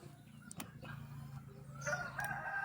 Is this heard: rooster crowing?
yes